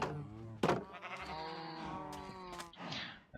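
A magenta sheep in Minecraft gives a drawn-out wavering bleat, with a couple of short clicks and a softer trailing call, close and clear.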